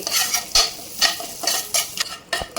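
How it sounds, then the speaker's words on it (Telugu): Whole spices fry in melted butter for paneer butter masala, a soft sizzle broken by several quick, bright spoon scrapes against the pan over a couple of seconds, close and wordless. "బటర్ కరిగిన తర్వాత మసాలా దినుసులు వేసుకోవాలండి"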